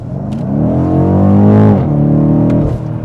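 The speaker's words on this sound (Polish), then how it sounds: "Pocisnę tam, zobaczymy przyspieszenie sobie takie do 60" A BMW with automatic gearbox accelerating hard up to 60, loud close engine drone rising steadily in pitch, easing briefly, then pulling again with a sustained throaty hum.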